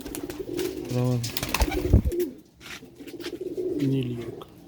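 Young grey pigeons of the old Sialkoti breed coo in a few soft, low repeated phrases up close, with a brief clatter of movement in between and some talk nearby.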